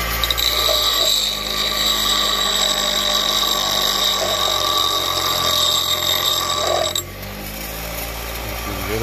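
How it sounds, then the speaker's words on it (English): A bench grinder grinds down a metal Hasport engine mount for a 2006 Honda Civic Si with a loud, steady high-pitched whir and scraping. The grinding stops abruptly near the end, leaving a quieter hum. "Come out here to the bench grinder."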